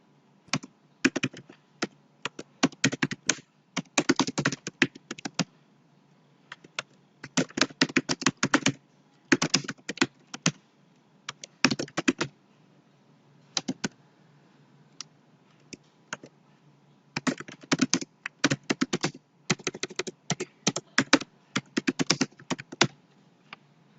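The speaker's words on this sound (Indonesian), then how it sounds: "kita ketik dulu" Keys clatter on a computer keyboard while a letter and table are typed up in a word processor, coming in rapid bursts of clicks separated by short pauses, close and fairly crisp with no talking.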